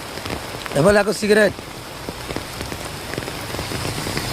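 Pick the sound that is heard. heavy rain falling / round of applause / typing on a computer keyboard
heavy rain falling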